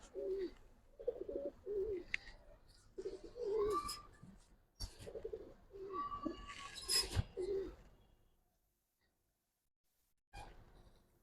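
Giribaz pigeons coo in short, repeated low rounded bursts, fairly close, with brief chirps and wing-like clicks between them, then a few seconds of quiet before one more call.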